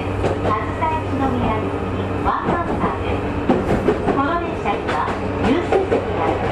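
A Sotobo Line one-man train rolls along with a steady low rumble, broadband running noise and faint rhythmic wheel clatter, heard from inside the carriage with some indistinct voices in the background.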